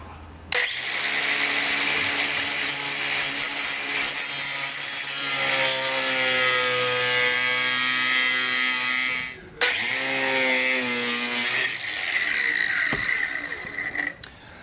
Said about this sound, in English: what I do is I use my angle grinder and kind of go through here and then clean it up with a file